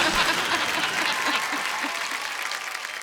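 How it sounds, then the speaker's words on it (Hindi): A studio audience at a comedy talk show claps loudly to welcome the chief guest, with continuous dense applause from the start that eases slightly toward the end. "जोरदार से ताली से आप उनका स्वागत करेंगे"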